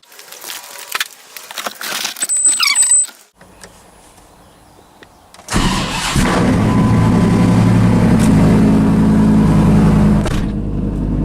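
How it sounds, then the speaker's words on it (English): A truck with a Fender Dump exhaust starts up after a few seconds of cabin noises and a short quiet gap, then settles into a loud, steady idle with a buzzing rattle running through it. "Just sitting in the truck, you can hear it rattling like crazy."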